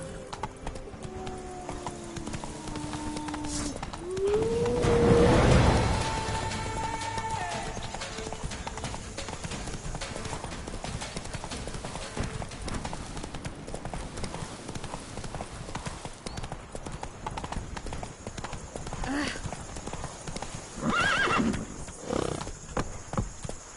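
Roach, a horse in the video game The Witcher 3, clip-clopping along with hooves drumming steadily, a loud whinnying neigh rising early and another neigh later, over a busy background.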